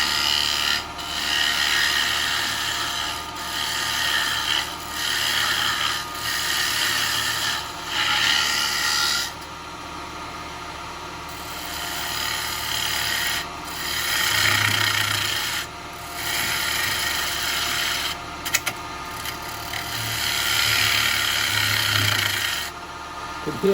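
A piece of wood spins on a lathe while a tool rasps and scrapes against it in repeated passes, with brief pauses and a few sharp cracking ticks from the wood, close and loud.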